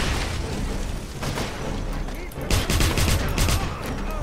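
Gunfire from the video game Wolfenstein, a series of rapid shots and bursts that grow busier in the second half, loud and steady against a dense game soundscape.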